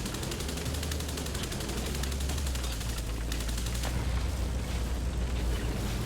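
Tank gunfire in a video game battle replay, rapid rattling bursts of automatic fire over a constant low engine rumble, fairly loud and continuous.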